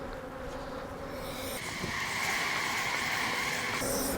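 Honeybees buzzing around an open, strong hive in a bee yard, a steady dense drone that swells louder partway through, with no voices.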